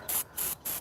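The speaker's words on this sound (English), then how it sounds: "I just like to spray right around the oil fill cap here, and then as well down by the drain plug." AMSOIL brake and parts cleaner sprayed from an aerosol can onto a Honda CRF50F dirt bike during an oil change: three short, close hissing bursts in quick succession.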